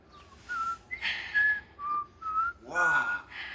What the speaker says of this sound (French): tu siffles comme un petit oiseau